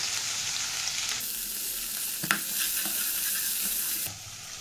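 Masala spices fry and sizzle with turmeric in a pan for a tangra fish curry, with a constant close hiss and a few stirring scrapes in between.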